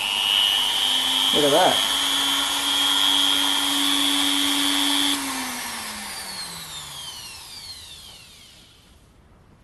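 A HILDA rotary tool fitted with a cutting disc on a modified arbor runs with a steady high-pitched whine and a lower hum, then cuts off and spins down to silence; a voice speaks briefly over it.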